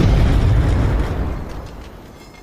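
Portuguese cannons fire in battle, a single heavy boom with a rumbling tail that fades out over about two seconds, loud and close, with no voices.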